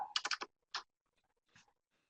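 A search term is typed on a computer keyboard, a quick close run of four or five key clicks followed by a couple of isolated keystrokes in a quiet room.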